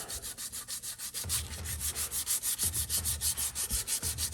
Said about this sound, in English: So now I'm gonna take my sandpaper.